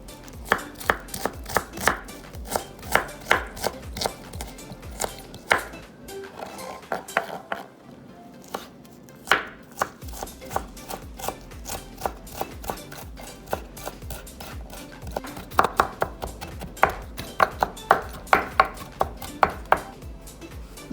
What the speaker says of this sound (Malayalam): ഇഞ്ചി ഞാൻ കൊത്തി അരിയാൻ പോവുകയാണ്.